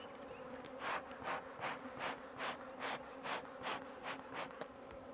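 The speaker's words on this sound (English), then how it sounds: "Just a ton of bees in here." A crowded honeybee hive in a double deep box hums with a dense, steady buzz, swelling in regular close-up pulses, with no voices.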